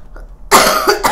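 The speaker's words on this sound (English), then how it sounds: "I am coughing." A person coughs close to the microphone during a pizza and pasta mukbang, giving a loud harsh burst followed by a second cough after a brief quiet start.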